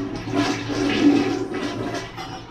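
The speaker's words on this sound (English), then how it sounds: "The water's running. It wasn't running before." A hotel toilet flushes and refills after its float was replaced, giving a steady rush of running water at close range with no talk over it.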